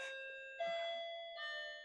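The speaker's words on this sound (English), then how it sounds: "so my doorbell rang" A two-tone electronic doorbell chime rings clearly, with a first tone followed by a second sustained ding that rings out, fairly loud and alone.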